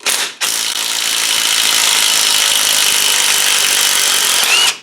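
A power tool whirs loudly and continuously, close up, as it drives bolts out of an LT230 transfer case with a 1.41 ratio from a TD5, with a short pause just after the start.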